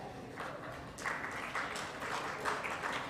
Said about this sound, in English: Let's have a huge round of applause for Ram Raghunathan Badwal